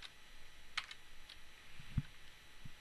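Sparse keystrokes on a computer keyboard while a router access-list command is entered for a networking lab, a few quiet clicks spread across a faint, hushed room tone.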